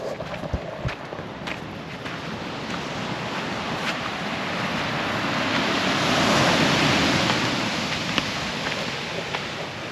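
Ocean waves washing onto a beach on a wet, wet day, a continuous broad surf wash that slowly builds and recedes, with wind buffeting the microphone and no one talking.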